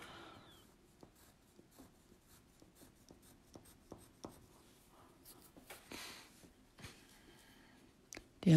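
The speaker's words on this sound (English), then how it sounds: "It's so quiet in my house, you can even hear the coloring of the pencil." Colored pencil coloring on paper in a very quiet house, with soft, close scratchy strokes and light taps scattered irregularly throughout.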